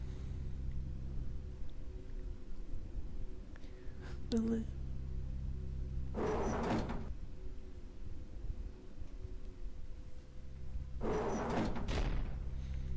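Doors shut in the video game Realms of the Haunting, two heavy thuds a few seconds apart, plus a lighter knock, over a low ambient drone.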